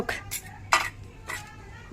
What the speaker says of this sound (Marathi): स्टीलची भांडी तेवढी धुव मग